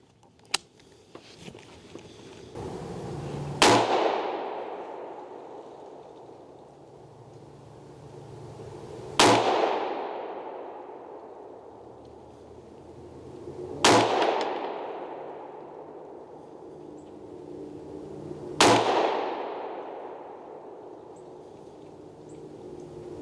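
Four loud gunshots from 300 Blackout rounds, Phantom Defense Spicy Boi loads, fired at an outdoor target, spaced about five seconds apart, each a sharp crack with a long decaying echo.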